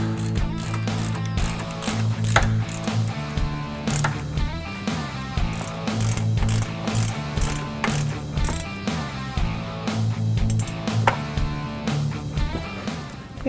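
A ratchet tightens front brake bolts on a 2015-2023 Mustang GT Performance Pack fitted with a Baer 15-inch rotor brake kit. Repeated close clicking bursts run steadily throughout, over a constant low tonal hum.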